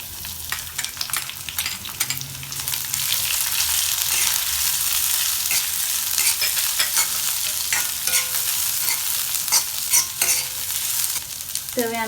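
Thinly sliced small onions and garlic fry in oil for a long beans dish, giving a steady bright sizzle broken by repeated stirring scrapes and clatter from a spoon against the pan.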